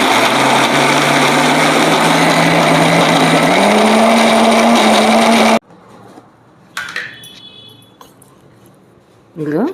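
A mixer grinder whirs loudly as it grinds soaked chana dal in its jar for bobbatlu, a high, steady whine rising slightly in pitch before cutting off, followed by quiet clatter.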